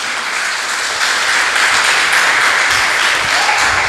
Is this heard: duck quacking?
no